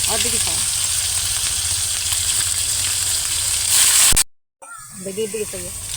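Garlic and ginger sizzle loudly in a pan over a wood fire for chicken curry, a dense continuous frying hiss with a voice speaking briefly at the start, then a sudden cut to silence before voices and sizzling resume.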